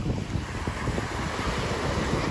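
Sea waves at a beach in Ajman wash steadily, a broad continuous surf roar with some wind buffeting the microphone and no talk.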